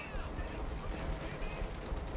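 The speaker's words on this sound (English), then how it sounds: "Here comes the white phosphorus artillery." Dense, continuous rumbling barrage of white phosphorus artillery fire in the Company of Heroes 2 strategy game, loud and sustained with layered crackling impacts throughout.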